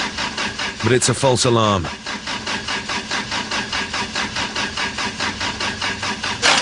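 Wood gas powered car engine cranking, a burst of loud turning-over with a rising whine before settling into a steady rhythmic chug repeating about twice a second, close and loud, with someone speaking briefly over it.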